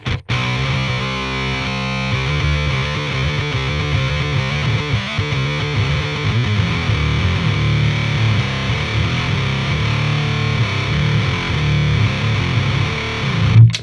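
Heavily distorted electric guitar with HM2-style tone through an Otto Audio Blown Out Wall pedal churns through thick, buzzy power chords, steady and loud throughout with no voices.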